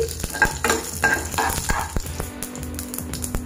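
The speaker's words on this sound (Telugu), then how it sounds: "ఎండుమిరపకాయని వేసి పోపు దినుసులను బాగా వేగనివ్వాలి" Tempering spices and a dried red chilli fry loudly in hot oil with a steady sizzle and crackle, while a spoon occasionally scrapes and stirs the pan.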